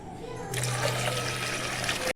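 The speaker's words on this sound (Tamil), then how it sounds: "இந்த மாவுக்கு தேவையான அளவுக்கு தண்ணி இதிலே வச்சிடலாம்." Water pours steadily into a cooking pot for making jaggery syrup for ragi flour kozhukattai, a short continuous splashing stream close to the microphone.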